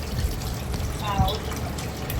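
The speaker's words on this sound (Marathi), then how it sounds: "चाळणी पण धरलेली आहे तर हे गाळून घेऊया" Water from soaked wheat trickles and splashes as it is strained through a cloth tied over a pot and a sieve, a steady wet dribble with a brief louder splash midway, close by.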